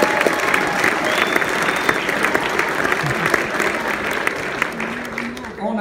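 Audience applause for a high school jazz band at a concert, steady loud clapping from a crowd sustained throughout, with a few voices mixed in.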